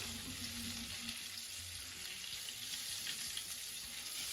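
Coconut-floured crayfish deep fry in hot oil, a dense continuous sizzle and crackle, close and steady throughout.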